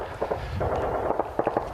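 Rapid bursts of distant gunfire, quick cracking shots in short irregular clusters against a muffled outdoor background.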